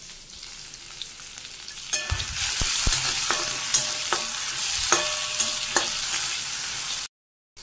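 Spices are stirred in a pan with the flame turned off. A faint background gives way to a loud sizzle, while the spatula scrapes and taps close by at irregular beats. Then the sound cuts to silence.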